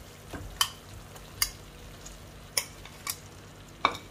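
A spoon stirs boiled eggplant in a pan for a no-onion, no-garlic baingan bharta, making a handful of sharp scraping clicks at irregular intervals against a quiet kitchen background, with no talking.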